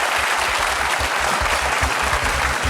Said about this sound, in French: le public vous applaudit